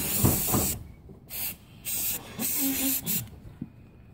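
Aerosol spray paint laying a white coat on a rusted iron railing on concrete stairs, heard as about five short, close hissing bursts with brief gaps between them.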